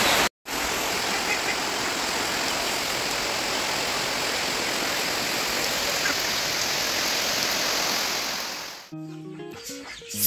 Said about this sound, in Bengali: পুরো ঝড়ি বৃষ্টি চলছে